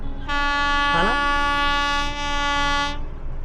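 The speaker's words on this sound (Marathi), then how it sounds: "तिकडनं आता एक ट्रेन येते बहुतेक मालगाडीच येते एवढी स्लो येते" A long, loud train horn blast holds steady for a few seconds with a brief wavering in pitch, the rumble of a train underneath.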